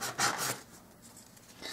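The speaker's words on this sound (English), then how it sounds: "I'm just going to sand this until I get it to fit." Sandpaper rubbed against a small wooden piece for a model beachside bungalow, two quick scraping strokes followed by quieter rubbing and another short stroke, close and fairly soft.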